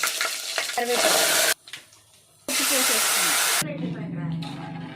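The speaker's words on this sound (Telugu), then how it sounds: "తాలింపు కోసం ముందుగా ఆవాలు వేసుకుంటున్నాను" Mustard seeds, cumin and garlic sizzle and crackle in hot oil for tempering, in loud bursts that cut off abruptly, with a quiet gap between them and a brief spoken word near the end.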